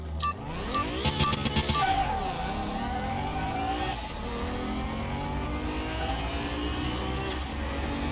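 A car engine in Car Mechanic Simulator 2021 drones steadily and fairly loud, with a brief revving rise in pitch early on before settling into a continuous engine hum.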